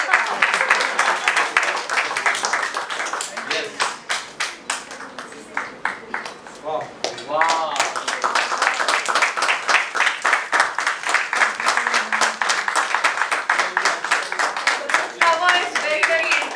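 Sustained applause and clapping from an audience at a book launch and world record celebration, dense and continuous for the whole stretch, with voices and cheering mixed into the crowd.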